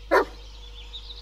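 A single short dog bark rings out in the Blair Witch horror video game, loud and close, then fades into a quiet, steady ambient hum.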